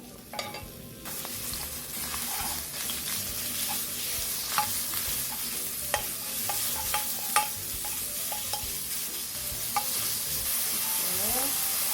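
Seasoned beef stir-fries in a little cooking oil, keeping up a continuous close sizzle while a utensil scrapes and clicks against the pan at irregular moments, with no speech.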